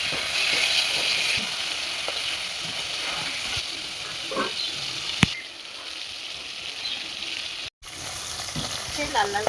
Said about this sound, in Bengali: এরপর মাছগুলো একে একে সব ভেজে দিচ্ছি।